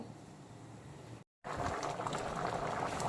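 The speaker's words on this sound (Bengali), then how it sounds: "এখন বেশ কিছুক্ষণ আম, কুমড়ো এগুলো খুব ভালো মতো সেদ্ধ হওয়া পর্যন্ত আমি বাকি রান্নাটা করে নেব" Chutney of ripe pumpkin and raw mango bubbles in a pot, a steady close simmering burble with a brief cut of silence midway, followed by louder, busier boiling.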